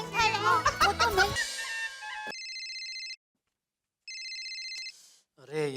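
A telephone rings with a bright electronic trill in two bursts separated by a short silence, following a stretch of talk; another voice starts up as the second ring ends.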